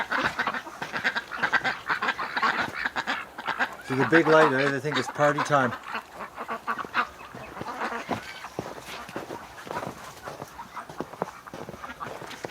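Ducks quack and honk inside a winter barn, a loud burst of calls standing out midway through, with someone talking over the flock for most of the time.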